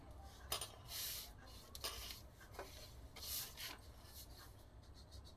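Pencil scratching over paper as a blouse pattern is traced onto a fresh sheet, in short quiet rubbing strokes with pauses between, close by and with no talk.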